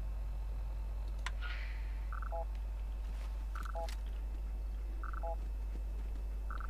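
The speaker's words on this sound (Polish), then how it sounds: "O, sygnał alarmowy." In Fallout 4, a distress signal beeps as a repeating pattern of short paired electronic tones at regular intervals over a low hum, faint and steady, with a few scattered clicks in between.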